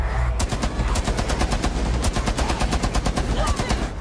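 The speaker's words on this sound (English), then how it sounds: "LMG! Mounted and loaded!" Rapid, sustained automatic fire from a mounted LMG in the Rainbow Six Siege Outbreak mode, loud evenly spaced bursts running steadily over a dense battle din.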